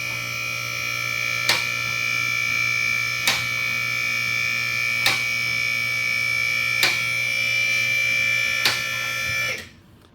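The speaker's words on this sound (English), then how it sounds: "I'm sorry if this motor's really loud." A motor runs loudly with a steady droning hum and faint regular clicks, then cuts off abruptly near the end.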